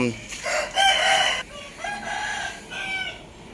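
A rooster crows loudly and nearby in a long drawn-out call, followed by more crowing and clucking from chickens close at hand in a mixed poultry pen.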